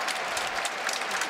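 Steady applause from a table tennis crowd at a quarterfinal match, a dense, even patter of many hands clapping at moderate distance with no talk over it.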